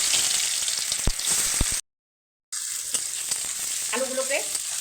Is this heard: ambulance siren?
no